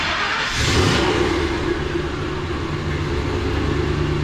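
A 1,000-horsepower sleeper Ford F-150 engine turns over and fires, then settles into a loud, rough, steady rumble at close range, with a brief rev early on.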